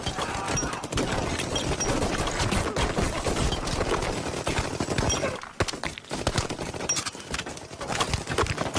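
Gunfire is exchanged in an action film fight against mafia gunmen, with rapid overlapping bursts and single shots crackling loudly and continuously, broken by a short lull before more shots ring out.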